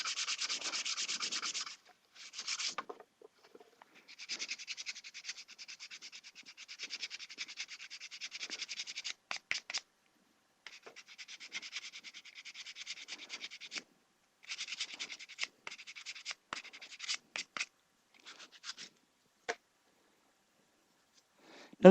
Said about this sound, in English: our epoxy back here is almost completely cured. We can almost start sanding.